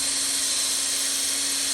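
A power drill spins a Bally Gorgar pinball part, giving off a steady, continuous whirring whine with no breaks.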